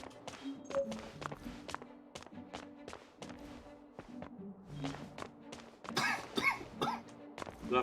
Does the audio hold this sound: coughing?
yes